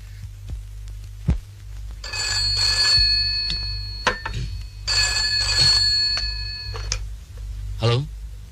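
An old landline telephone rings in a 1981 Indonesian film, two long metallic bell bursts with a pause between, followed by a short clatter as the receiver is lifted, set over low room hum.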